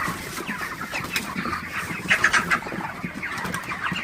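Broiler chickens on a poultry farm cluck and squawk in a dense, overlapping chorus, with some nearer calls and brief rustling among the flock, and no talk.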